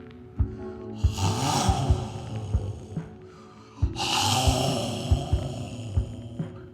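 A person imitates loud snoring: two long, rasping drawn-in snores with snorting pulses, separated by a short pause, close to the microphone.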